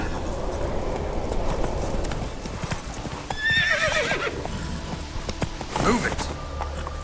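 Roach, the horse in The Witcher 3 video game, gallops with a rapid rhythmic clip-clop of hooves, punctuated by loud neighs and whinnies partway through, over a busy game soundscape.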